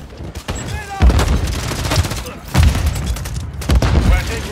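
Rapid gunfire from an MTZ-556 rifle in a Call of Duty Modern Warfare 3 multiplayer Domination match comes in several loud bursts with booming impacts, under in-game voice callouts.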